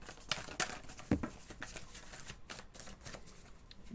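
Tarot cards riffled and shuffled by hand in a series of soft, rapid flutters and taps, close and fairly quiet, with no voice over them.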